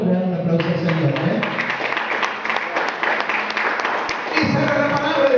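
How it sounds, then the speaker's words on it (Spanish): A church congregation applauding during a Spanish-language sermon, a burst of clapping that rises and fades, with a voice speaking at the start and end. "¿Cuántos le dan un aplauso al Señor?"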